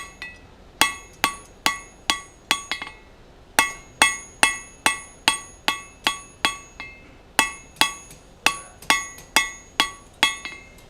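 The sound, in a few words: hammer blows forging hot steel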